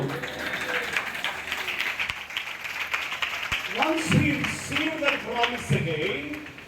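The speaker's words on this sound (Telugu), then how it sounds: "ఈ వాక్యం నా జీవితంలో నెరవేరాలన్న వారందరూ చేతులెత్తి చప్పట్లు కొడుతూ" A congregation at a Telugu church gathering claps along, the clapping a dense patter under a preacher's continuing speech and growing louder toward the end.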